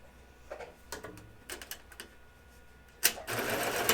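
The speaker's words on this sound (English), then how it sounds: "I'm going to sew my waistband together, right sides together along the short seam here" Scattered light taps and clicks lead into a sewing machine starting up on the short waistband seam of a pair of pants, running steadily at the close.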